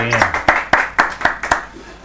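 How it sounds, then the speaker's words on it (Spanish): Clapping in a tight, regular rhythm, about four sharp claps per second, close and fairly loud, with a brief voice at the start before the claps take over and then trail off. "Aplauso, por favor"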